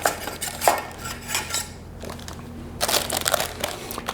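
A knife scraped around the inner walls of a cake pan holding a German apple cake, giving a few close, rough metallic scrapes and crunches in short bursts with a quiet gap between them.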